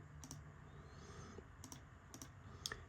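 Numbers keyed on a computer keyboard during a lecture, quiet crisp clicks in small clusters of keystrokes, close and alone with no talk.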